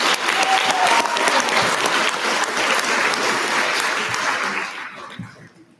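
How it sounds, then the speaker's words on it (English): At a high school band concert, the audience gives a warm round of applause, many hands clapping steadily before tapering off and fading into quiet. "If we could give them all a round of applause for kicking us off."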